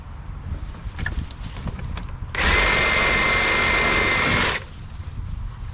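A reciprocating saw cutting tree branches roars loudly for about two seconds in a single steady burst, cutting off abruptly, with quieter outdoor background before and after.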